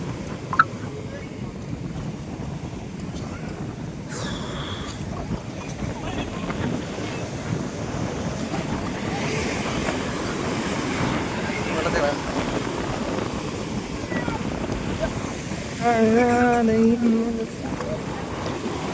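Sea waves wash up over a sand elephant sculpture on Alappuzha beach, making a steady rushing surf under heavy wind buffeting on the microphone, while people talk nearby.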